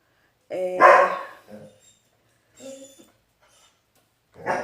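A pet dog barks indoors, one loud close bark followed by a few shorter, quieter barks and whimpering yips separated by pauses, with no talk over them.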